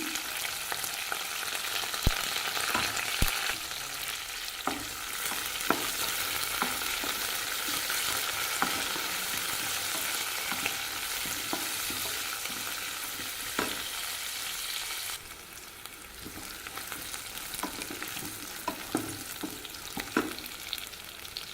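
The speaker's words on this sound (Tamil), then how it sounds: "கடுகு நல்லா வெடிக்குதுங்க சின்ன வெங்காயம் சேர்த்துக்கிறேங்க" Mustard seeds crackling and popping in hot oil as small onions, green chili and curry leaves fry in a pan for rice upma, a continuous close sizzle broken by sharp pops and stirring scrapes, easing slightly in the last few seconds.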